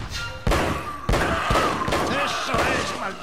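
Gunfire in the video game Uncharted: Drake's Fortune, several sharp loud shots spaced about half a second apart, each followed by echoing clatter and thuds.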